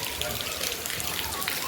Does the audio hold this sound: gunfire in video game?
no